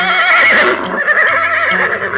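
A horse neighs in a loud, close, quavering whinny that runs on for a couple of seconds, with no voices over it.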